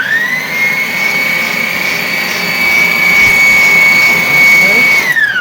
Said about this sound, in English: And then I can return back to whisking the cream